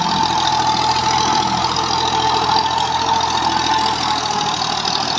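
A tractor engine runs steadily in second gear while pulling a Big Rotawater 54 cutter, a loud, constant mid-pitched drone with a knocking rumble and no pauses.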